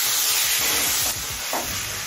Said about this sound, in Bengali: এবার একদম লো ফ্লেমে এই সবজিগুলো একটু সিদ্ধ হয়ে আসা পর্যন্ত রান্না করে নেব।